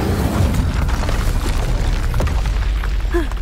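A fire spell cast in Hogwarts Legacy bursts with a loud, deep booming whoosh over a steady roaring background, sustained for a few seconds with a brief bright crackle near the end.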